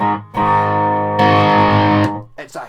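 A Jackson V electric guitar with an EMG 85 pickup plays through a distortion pedal, two loud sustained distorted chords ringing close up, the second stronger, followed by a brief voice.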